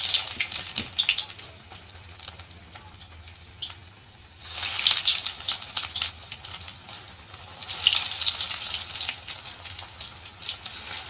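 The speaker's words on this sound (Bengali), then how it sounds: "এবার চপগুলো একটা একটা করে আমি ছেড়ে দেবো।" Vegetable chops are dropped one by one into hot oil in a kadai on a high gas flame, giving a steady bubbling sizzle that swells in louder bursts.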